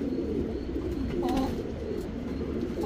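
A male Surmai pigeon coos softly at close range, low throaty burbles rising briefly over a steady background hum.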